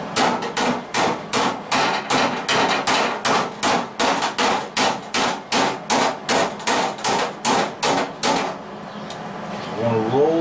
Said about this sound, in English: If you hammer too much, you're going to take this edge and you're going to push it over